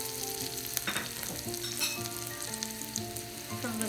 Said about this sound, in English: now we're going to saute the vegetable